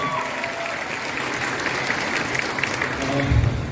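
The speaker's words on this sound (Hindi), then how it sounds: "जानदार शानदार तालियों के माध्यम से" A crowd at a welcome ceremony in Bastar claps steadily throughout, dense applause with a voice faintly audible beneath it.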